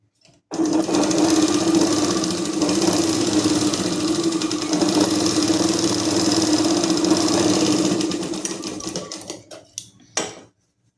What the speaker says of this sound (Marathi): इथे डबल टीप मारून घ्यायची आहे